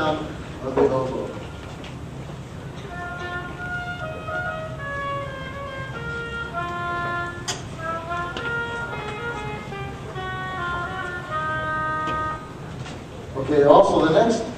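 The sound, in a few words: oboe being played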